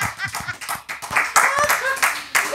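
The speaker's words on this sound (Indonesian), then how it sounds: "Tepuk tangan lo." Sharp hand claps ring out in a quick irregular burst, several people clapping briefly over lively talk and laughter on an Indonesian talk show.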